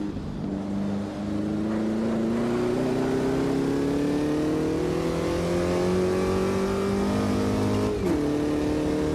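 Formula Vee race car engine in a racing simulator game, a steady loud drone whose pitch climbs slowly as the car accelerates, then dips briefly near the end as it shifts or lifts before holding again.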